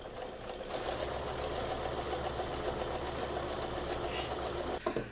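A sewing machine runs steadily, stitching a quarter-inch seam along the side and bottom of a pillowcase, with a continuous close whir that stops abruptly near the end.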